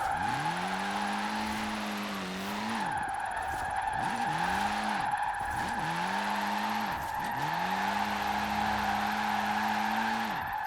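A lightweight sports car spins out in Forza Horizon 4, its engine wailing while the tyres squeal and skid in repeated long screeches, the pitch bending up and down as the car slides, loud and close.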